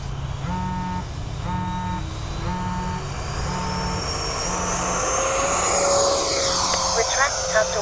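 A Freewing 70mm ME 262 RC jet flies on its maiden flight, a steady loud ducted-fan whine with a rising tone as it passes, while repeating electronic beeps sound near at the start.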